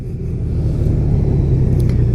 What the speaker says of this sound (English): It's got a real howl to it when you get on the brakes.